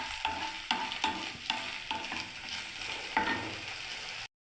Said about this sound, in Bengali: এখানে বন্ধুরা দেখুন ভেন্ডিটা এখনও ভাজা হচ্ছে